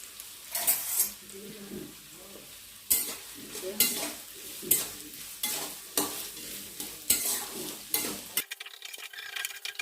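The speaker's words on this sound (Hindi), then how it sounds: "मैं ये लेती हूँ प्याज और हरी मिर्ची को फ्राई करती हूँ थोड़ी देर के लिए" Steady sizzling of onions and green chillies frying in a pan for mutton keema, punctuated by repeated stirring scrapes at an irregular rhythm, close and fairly quiet.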